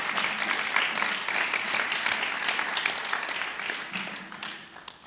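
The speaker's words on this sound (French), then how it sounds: "Acclamons le Seigneur Jésus." A church congregation bursts into sustained applause after a preacher's call to acclaim the Lord Jesus, dense steady clapping filling the room for several seconds before tapering slightly.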